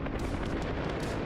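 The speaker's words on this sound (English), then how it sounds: "Gunfire off my 12." Gunfire in the DCS World combat flight simulator comes as a dense, rumbling rattle of rapid shots, steady and moderately loud for over a second.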